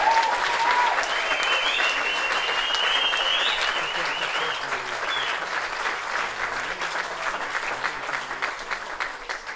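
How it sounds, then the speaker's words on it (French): Strong, sustained applause from a theatre audience after a jazz festival set, with whistles and cheers rising over the continuous clapping for nearly ten seconds. "Donc vous pouvez vraiment les applaudir très très fort,"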